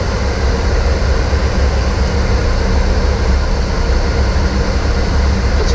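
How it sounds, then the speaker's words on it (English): A jet airliner on approach to landing with the landing gear extended, a loud, steady broadband roar of airflow and engine noise filling the whole cockpit without letup. "Gear down."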